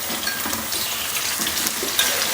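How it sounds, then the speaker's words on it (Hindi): Two medium tomatoes dropped into a hot pan of browning meat for achaar gosht, giving a loud, dense, continuous sizzle with a few louder bursts and faint utensil scrapes close by. "अब हम इसके अंदर 2 दरमियाने साइज के हमने टमाटर लिए हैं, वो ऐड कर देंगे"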